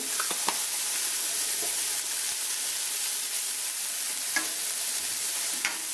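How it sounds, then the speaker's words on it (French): Salted onions sweat and sizzle steadily in a hot pan for a pâté chinois, a continuous close frying hiss with a few faint stirring clicks and no talk. "Je sale mes oignons, ceci va lui permettre de relâcher l'eau."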